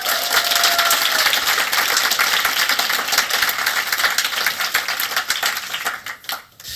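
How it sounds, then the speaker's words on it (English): Sustained audience applause for the judges at an awards ceremony, dense steady clapping from a crowd that fills the room, then thins and tapers off toward the end. "Round of applause, please, for our judges."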